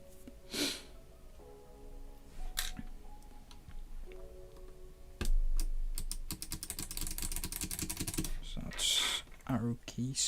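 Plastic arrow keycaps pressed and clicked onto a mechanical keyboard: a close run of rapid ticks and snaps, with scattered clacks, soft breaths and a voice talking now and then.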